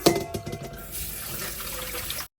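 Tap water runs steadily over a Japanese pumpkin being rinsed in a sink, opening with a few splashy bursts and then a continuous close gush that cuts off abruptly.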